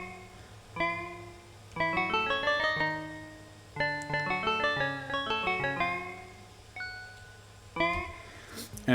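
Second bar of a synth lead from a waltz-style electronic track, played alone: bright, pitch-bending tonal notes in quick melodic runs with short gaps and a few isolated accents, clear and close with no speech.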